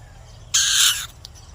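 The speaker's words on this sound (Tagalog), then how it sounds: "Ito pala itong ibon na to." A bird calls in a single bright, harsh burst lasting about half a second, then a faint short chirp follows; the call sounds close and stands alone over a low background hum.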